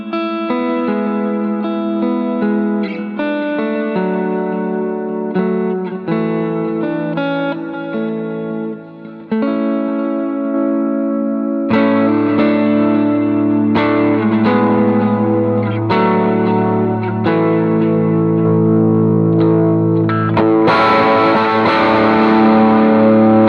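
Electric guitar played through a Benson Chimera amp impulse response with drive, giving a distorted, effect-laden tone with echo and reverb as it moves from chord work into a heavier, fuller passage.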